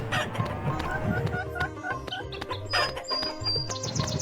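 In an animated cartoon, a chicken being chased clucks and chirps close by in quick, uneven bursts, with a rooster-like call and some background movement.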